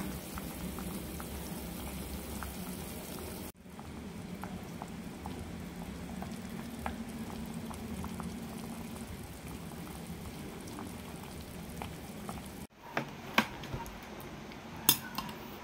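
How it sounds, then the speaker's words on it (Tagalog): Sardine soup with sponge gourd simmers in a pot, a faint steady bubbling hiss with occasional light clinks of utensils, without talk. "Kunting kulo na lang, tapos ilagay ko na yung miswa."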